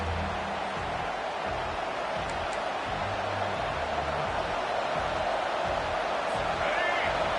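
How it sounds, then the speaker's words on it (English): A roaring stadium crowd in the College Football 25 video game swells into a steady, dense wall of noise as the defense stands near its own goal line. Loud crowd roar continues throughout, with a low rhythmic thumping underneath. "Listen to this crowd just shaking the girders of this place, trying to help their defense."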